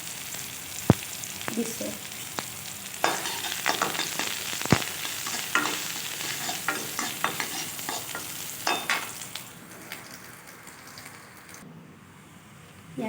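Onion, garlic and whole chili fry in a pan for an Assamese lemon dal dish, a steady sizzle with frequent stirring clicks, fading toward the end; a brief word is spoken.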